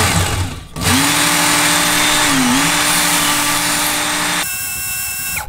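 A kitchen knife is drawn across fine-grit sandpaper in a second, finer sharpening stage, producing a loud, steady motorized whir with a sustained tone that dips once midway, then cuts off near the end.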